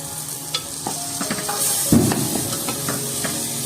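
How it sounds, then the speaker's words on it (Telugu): Masala paste for an egg and mutton soup is stirred and fried in a pan, making a loud, close sizzle broken by the scraping and knocking of the spoon, with a brief hiss flaring midway. "బాగా కలపండి. అడుగంటకుండా కలుపుతూ ఉండండి. పచ్చివాసన పోయే వరకు వేయించుకోవాలి."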